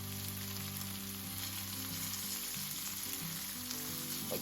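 Chicken searing in a pan for jambalaya with andouille sausage and shrimp, a steady soft sizzle and crackle holding evenly at a moderate level with a faint background hum, left undisturbed.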